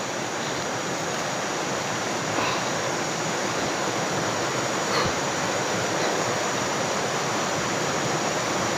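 A river flows in a steady, broadband rush that holds even and unbroken throughout, with no voices over it.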